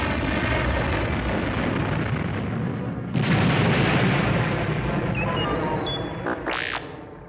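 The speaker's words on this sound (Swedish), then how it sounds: "Dödsstjärnan skakades av en serie explosioner." A rumbling series of explosions tears through the Death Star in a Star Wars story, with loud sustained booms and a sharp new blast partway through, followed by a fading whoosh near the end.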